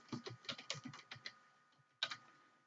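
Keys on a computer keyboard clatter in a quick run of soft, close taps while a cash-register operation is entered, then go quiet before one last firmer keystroke near the end.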